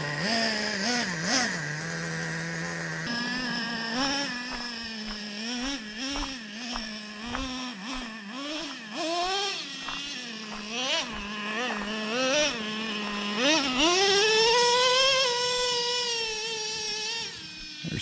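A Traxxas Revo 3.3 nitro RC truck's small engine buzzes at a high pitch, revving up and down repeatedly with quick rising whines and dips, nearby and fairly steady throughout.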